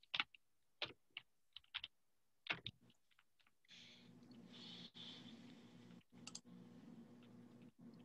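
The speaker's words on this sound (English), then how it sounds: "which I'll type in the chat box here" Keyboard typing on a computer during an online webinar, several quick bursts of soft key clicks in the first few seconds and again later, close and fairly faint, over a low steady room hum that grows in the second half.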